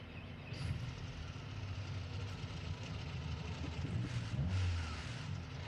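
A small four-cylinder truck engine in BeamNG.drive starts, idles with a low rumble and revs slightly, a game vehicle sound heard faintly and steadily.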